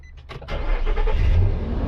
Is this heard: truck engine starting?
yes